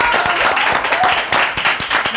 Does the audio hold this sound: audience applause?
yes